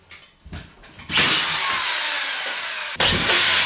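A power screwdriver drives a screw into plasterboard during wall insulation and drywall work, starting with a few short taps, then a loud, steady whir that runs for about two seconds and stops abruptly.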